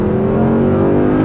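A naturally aspirated Audi R8 Spyder engine revs loudly and close in sport mode, holding a sustained high drone that edges upward without a break.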